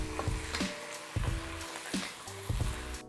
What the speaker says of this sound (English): add some oil, drop in the vegetables. Stir and add some salt.